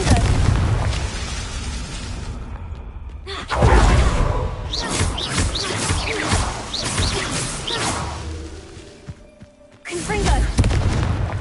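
A Confringo explosive spell from a video game goes off in repeated booming blasts with whooshing rushes and crashing debris, loud and close, mixed with a voice and game noise.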